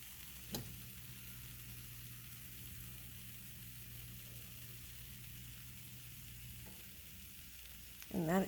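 A pancake frying in grease in a pan, a steady close sizzle running throughout at moderate level, with a brief scrape near the start and a voice beginning to speak at the very end.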